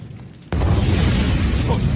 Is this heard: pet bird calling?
no